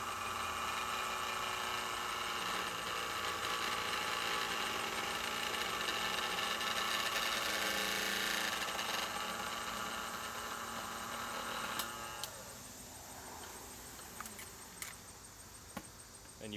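An optical lens pattern tracer spins on its spindle with a faint, steady mechanical hum and whir that settles down near the end, followed by a few small clicks.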